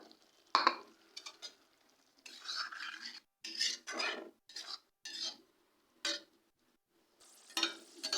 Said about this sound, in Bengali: ধনে পাতাটা দিয়েও আমি দু মিনিট একটু নাড়াচাড়া করে নেবো